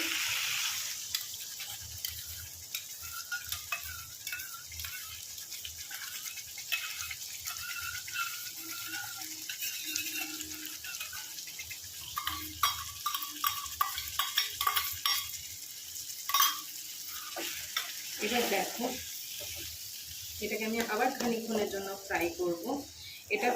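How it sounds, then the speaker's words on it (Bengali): Spice masala sauce for crab curry fries in a pan with a little water added: a soft, uneven sizzle with occasional stirring scrapes, mostly under a person talking nearby. "দিয়ে আবার আমি বাকি সসটা মানে এই বাটিটাতে যেটুকু জল আছে সেই জলটা দিয়ে আবার আমি খানিকটা সময় ফ্রাই করবো"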